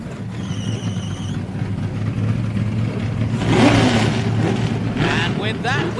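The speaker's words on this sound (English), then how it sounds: "the beautiful sound of IROC bellowing out over the hills of Monterey" IROC race cars starting and revving their engines at a motorsport reunion at Laguna Seca in Monterey, a loud mix of engine roars rising toward the middle, under crowd noise and a commentator's voice.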